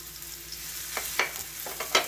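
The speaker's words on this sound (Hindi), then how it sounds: "ये प्याज और लहसुन को हम अच्छे से फ्राई कर लेंगे" Onion and garlic frying lightly in a pan for masala macaroni pasta, a steady soft sizzle with a few sharper scrapes of stirring near the end, no voices.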